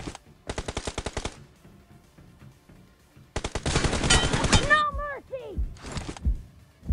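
Automatic gunfire from the PUBG Mobile battle royale game, with two short rapid bursts of shots followed by a longer dense burst, plus whooshing ricochet-like sweeps and thuds close up.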